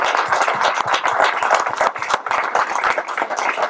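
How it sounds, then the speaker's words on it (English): Audience at a transportation town hall meeting gives a round of applause for guests from CDOT, a steady dense wash of many hands clapping close by for several seconds without a break. "I would invite you all, ask you all, to share a round of applause for our guests from CDOT here tonight."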